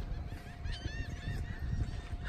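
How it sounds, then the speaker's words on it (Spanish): Seabirds call repeatedly at the port of Puerto Progreso, with harmonic cries rising over steady harbor noise and low rumble, several birds overlapping at moderate distance. "Y ahí están todas las aves preciosas"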